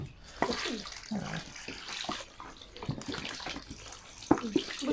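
Water is poured and splashed while homemade butter is washed by hand in a home kitchen, irregular close sloshing and trickling with soft wet squelches and brief pauses.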